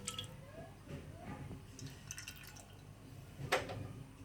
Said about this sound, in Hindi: तो पहले जाएगा इसमें 1 प्याली ऑयल की।